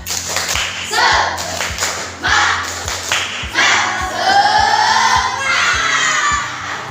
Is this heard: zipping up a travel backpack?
no